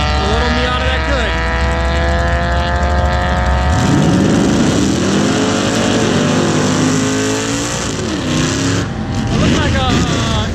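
A kart powered by a Mazda Miata engine races around a track, its engine loud and close as it revs hard and climbs through the gears, with a sharp pitch change partway through as it lifts and accelerates again.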